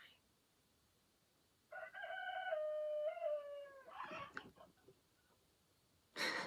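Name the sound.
rooster crowing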